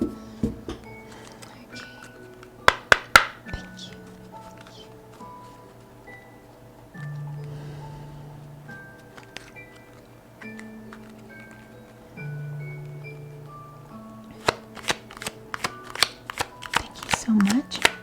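A large tarot card deck being shuffled, crisp riffling bursts near the start and end with softer sliding shuffles in between, close and clear, while a person talks throughout.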